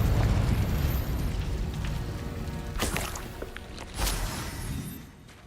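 Confringo fire-blast spell from Hogwarts Legacy, a sustained roaring rumble with two sharp bursts of explosive crackle near the end, loud and close with no talking.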